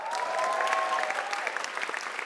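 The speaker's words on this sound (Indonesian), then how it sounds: "3 besar, tepuk tangan dong" Brief applause and scattered claps break out from the audience at a televised stand-up comedy competition, with a faint tonal sweep underneath that fades as the clapping thins.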